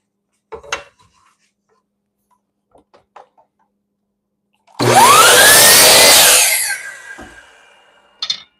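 A power saw cuts wood for a handle: a loud, close burst of about two seconds with a rising and falling whine, set between scattered soft knocks and handling clicks.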